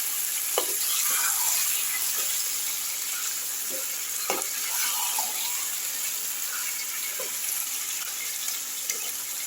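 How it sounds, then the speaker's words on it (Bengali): Marinated chicken sautés with spices in a pan, giving a steady sizzle with intermittent scraping stirs and soft knocks of a spoon at close range. "এবার মশলার সঙ্গে খুব ভালো করে কষে নেব 5 মিনিট ধরে।"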